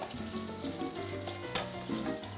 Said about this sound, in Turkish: Yavaş pişmekte olan soğanlarımız artık.